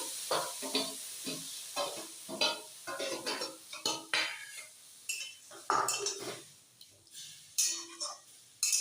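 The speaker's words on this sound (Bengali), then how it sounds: "এবার আমি এই ম্যারিনেট করা মাংসটা গোটাটাই এর" Marinated chicken goes into a hot pan with garam masala, giving a steady sizzle beneath repeated clinks and scrapes of a spoon stirring against the metal, close and moderately loud.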